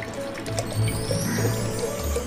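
Water is poured into a cooker for a daab chingri dish, a steady liquid filling sound with gurgles and drips, close and continuous, with no talking.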